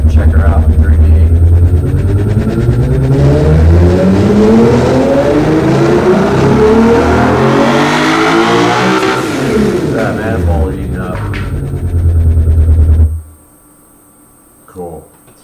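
A 2,794-horsepower V12 in the Automation car game revs loud and steady, pitch sweeping up through a long run then dropping, before cutting off abruptly near the end with a brief faint blip after.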